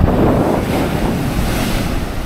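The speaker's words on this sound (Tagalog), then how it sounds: "Sobrang mataas, malaki ang alon." Big ocean waves at high tide crash and roll continuously onto a beach beside a seaside cave in Mauban, Quezon, loud and close, with heavy wind buffeting the microphone.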